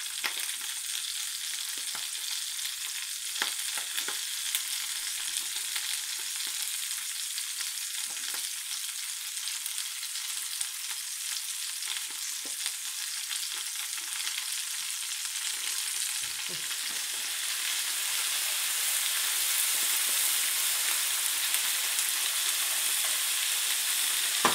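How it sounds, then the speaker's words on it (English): Red onion rings frying in a pan alongside mushrooms and green pepper for bangers and mash, giving a steady, close, broadband sizzle that runs unbroken throughout and swells slightly louder toward the end, with no voices. "Now when I add the red onions, I'm going to break them up into their rings as I put them into the pan."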